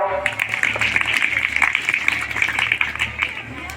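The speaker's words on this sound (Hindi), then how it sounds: "जोरदार ताली बजाओ।" Loud, steady clapping from a school audience at a girls' intermediate college seminar in Basti, a dense broadband patter sustained for the whole stretch with a faint low hum beneath.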